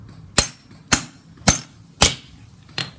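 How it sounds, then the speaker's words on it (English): A hammer strikes a screwdriver set in a hole on a Razor E300 scooter's rear wheel to loosen a part: five sharp, loud metallic knocks spaced about half a second apart, close up with no talk. "get a hammer, can you see that? Hammer, and you hit down"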